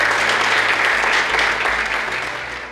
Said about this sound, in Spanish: Les pido que les den un gran aplauso a todos sus participantes